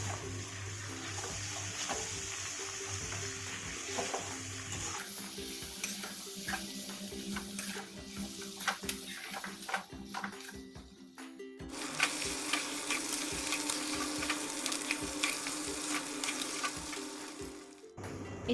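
Chicken and lai xaak greens stirred and frying in a pan, a steady sizzle with scraping stir strokes that grows brighter partway through, close and continuous with no talking.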